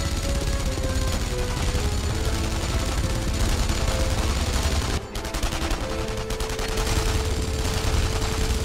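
Enemy soldiers firing in the World War II shooter game Enemy Front, dense rattling bursts of rapid gunfire running almost continuously over a loud backdrop, with a brief dip midway before the shooting resumes.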